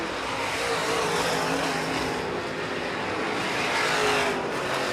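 Dirt track race cars roar around VA Motor Speedway during a weekly championship race, a dense, steady wash of engine noise from several cars at once, loud and continuous for the whole stretch.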